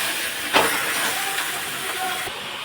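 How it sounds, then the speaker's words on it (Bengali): Potatoes and meat frying in hot oil, a steady close hiss of sizzling that runs throughout with a brief louder burst early on. "আলুটা দিয়ে দিচ্ছি ওর মধ্যে, একটু ভাজা ভাজা হবে, তারপরে মাংসটাও ছেড়ে দেবো আমি"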